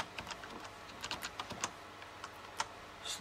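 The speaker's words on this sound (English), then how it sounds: "type in my name" Quick, light keystrokes on a computer keyboard as a name is typed into an Ubuntu 9.10 installer, a scattered run of soft clicks close by with no talking.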